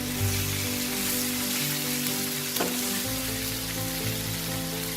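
Tandoori chicken sizzles hard in a pan over a high flame, a steady broadband frying hiss with a low hum beneath and a brief crackle near the middle, close and continuous with no talk.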